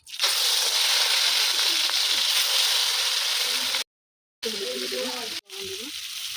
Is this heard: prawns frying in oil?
yes